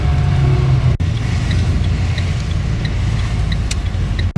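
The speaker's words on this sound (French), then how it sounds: "il y a la circulation." Inside a moving car at nightfall in Bizanos, France, around 5:40 pm: a steady, loud roar of road and engine noise from evening traffic continues with no break, broken only by two short dips.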